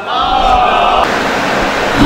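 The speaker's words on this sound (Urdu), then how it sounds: "نعرے سلوات سے استقبال کریں" A crowd at a Jashne Imam Hasan religious celebration in Cholas Sadat chants salawat in unison to welcome the poet Ali Shabbar Nauganwi. The loud, dense mass of voices fills a short burst lasting about two seconds.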